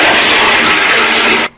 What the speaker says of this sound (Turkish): Fırçayı içinden çıkarıp bir suyunu çekeyim,